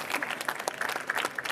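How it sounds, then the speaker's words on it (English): An audience applauds entrepreneurs after a circular economy pitch event, brief crisp clapping from many hands, moderately loud and close, with no talk over it. "Please put your hands together for a round of applause for these wonderful entrepreneurs"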